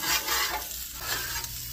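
Steak searing in a pan for a carnivore-diet meal gives a loud, steady sizzle with bursts of hissing and faint stirring scrapes, close up and with no voices.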